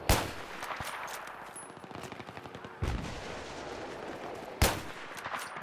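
Bolt-action rifle gunfire in a first-person shooter game on a desert map: two loud, sharp single shots spaced a couple of seconds apart over a background of lighter in-game firing and clatter.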